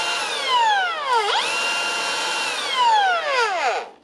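A Makita angle grinder running after an armature swap and ahead of a bearing replacement, its high whine revving up and falling away twice in smooth sweeps, close and loud with a faint hiss beneath.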